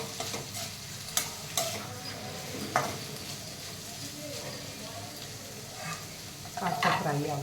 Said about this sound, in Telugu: కాస్త ఫ్రై అవ్వనిద్దాం.